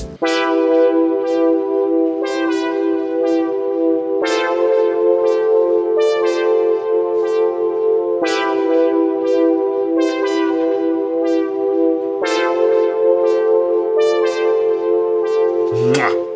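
A looping game-style music track with a steady synth melody and bright repeated notes, recurring in regular phrases every couple of seconds, loud and continuous with no voices.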